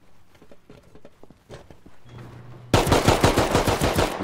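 Rapid automatic turret gunfire in the survival game Rust, erupting suddenly and loudly after quieter scattered ambient noises and footsteps, then continuing as a dense, fast burst of shots to the end.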